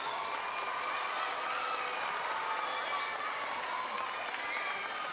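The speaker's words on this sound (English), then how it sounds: "Let's give another round of applause to Pedro Martin." An audience at a university book award ceremony keeps up a steady wash of applause for an honoree, dense, even clapping at moderate volume with no break across the whole stretch.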